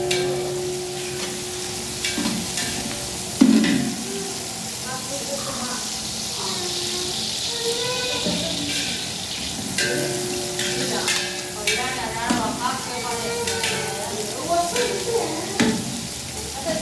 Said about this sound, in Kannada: ಮೆಂತ್ಯ ಸೊಪ್ಪು ಹಸಿದು ಇದು ಚೆನ್ನಾಗಿ ಎಣ್ಣೆ ಒಳಗೆ ಫ್ರೈ ಆಗಬೇಕು